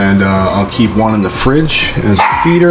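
A small pet dog barks in the background, a few short yips and barks sitting under steady, close talking.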